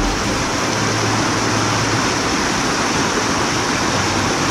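A river near waterfalls rushes in a steady, loud, broadband roar with no letup, close by and with no voices over it.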